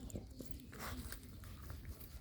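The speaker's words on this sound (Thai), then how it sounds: "แมงโก้แมงโก้กัดหนังโอ้เป็นได้กินอย่างบ่พี่น้อง" A small puppy bites and chews on a piece of leather, giving faint, close gnawing clicks and crunches in an irregular rhythm over quiet room noise, without talk.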